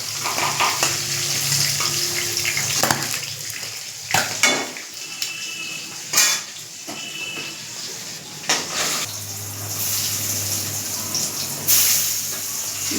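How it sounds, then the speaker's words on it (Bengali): River magur catfish fry in spattering oil, sending out a steady close sizzle punctuated by clattering pans and utensils as the pieces are stirred and turned. "বাকি মাছগুলো দিয়ে ভেজে নেব।"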